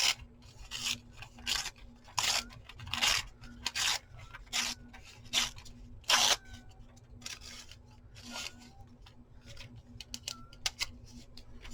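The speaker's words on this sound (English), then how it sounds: "I'm going to tear this into some strips" Fabric is torn into strips in a series of short, harsh ripping bursts, close and distinct, separated by brief pauses over a faint steady hum.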